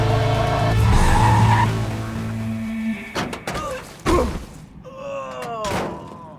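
Car in the video game Battlefield Hardline revving hard with a sustained engine tone, then skidding with tire squeals and heavy thumps, followed by further squealing slides.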